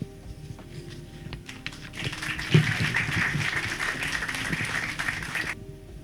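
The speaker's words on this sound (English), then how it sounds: "Let's give another round of applause for Jacqueline." Audience at a groundbreaking ceremony breaks into applause, a dense crowd of clapping swelling up after a brief quiet start and holding steady for several seconds before cutting off.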